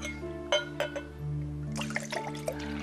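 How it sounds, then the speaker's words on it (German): A child pours a drink from a bottle into a glass: a few soft clinks of glass, then a steady liquid pour running for about a second, quiet and close, with no talk. "und kannst du schon alleine einschenken?"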